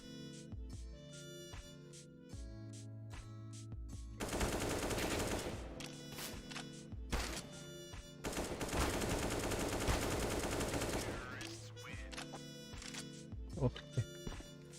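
AK rifle fire in CS:GO, sustained loud automatic bursts at two points, between stretches of quieter game music and scattered single shots.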